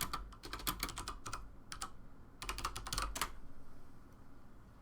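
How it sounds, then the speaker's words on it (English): Rapid clusters of clicking keystrokes on a computer keyboard, arriving in quick bursts separated by short pauses, close and fairly quiet, ending in near silence. "No, I'm typing."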